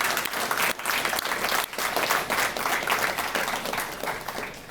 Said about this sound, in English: let's give Luane a really big round of applause.